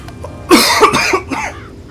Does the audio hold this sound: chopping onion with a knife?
no